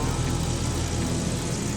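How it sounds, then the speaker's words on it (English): Engines of a WW2-era plane rumble steadily on the ground ahead of taxiing out for a run-up, a dense, continuous low drone with no break across the short stretch. "They fire up the engines and taxi out to do a run-up."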